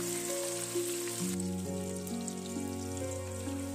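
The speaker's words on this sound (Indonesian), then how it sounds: "Dalam minyak yang sama, goreng pula bahan-bahan yang dipotong tadi." Chopped sambal hijau ingredients frying in hot oil, a steady close sizzle that runs the whole way through beneath a melodic backing tune.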